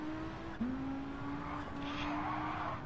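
Video game car in Gran Turismo 7, a Cappuccino, drifting with a sustained tire squeal that shifts pitch midway, over a low engine hum at moderate level.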